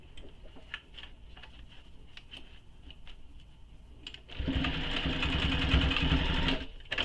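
A home sewing machine runs steadily for a few seconds, basting along the top edges of a fabric bag, with soft ticks before the motor starts.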